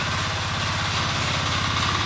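A Weima 12hp gear-type diesel cultivating tiller runs steadily nearby, its single-cylinder engine giving a loud, rapid, even thumping with broadband mechanical clatter and no voices.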